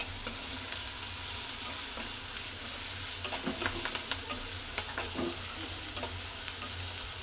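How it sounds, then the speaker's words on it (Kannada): Whole green chillies, slit down the middle, frying in a pan with a continuous bright sizzle and occasional crackles and pops, steady and close. "ಮೆಣಸಿಕಾಯಿ ಹಾಕಿ ಸ್ವಲ್ಪ ಫ್ರೈನ ಮಾಡ್ಕೋಬೇಕಾಗುತ್ತೆ."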